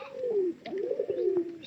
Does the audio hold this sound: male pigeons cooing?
yes